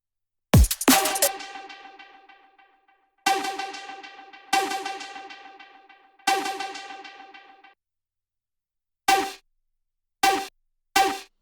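Synth shots for a neurofunk track built in Ableton: a series of bright, tonal stabs, each one loud and decaying in a long ringing tail, with three longer hits followed by a few short clipped ones, no voices.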